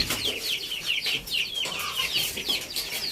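Free-range kienyeji chickens on a chicken farm cluck and squawk continuously, several birds close by in overlapping choppy calls, with faint background noise and no clear speech.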